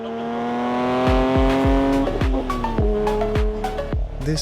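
A Porsche 911 GT3's engine sounds close and loud, its tone climbing and stepping through several quick shifts, each marked by a sharp crackle or pop.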